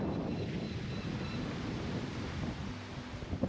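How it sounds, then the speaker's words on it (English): Wind buffets the microphone of a moving vehicle heading over a mountain, a dense, continuous rumbling roar with no voices. "Bloody wind's picked up though."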